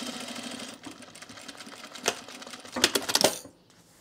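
A sewing machine stitches the placket of a men's utility jacket, a quiet running hum giving way to a few louder clattering bursts before stopping.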